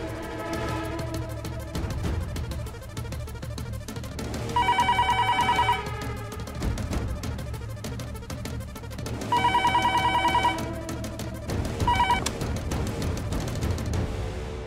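A telephone rings repeatedly in clear, regular bursts, loud and close, with a steady background hum beneath it.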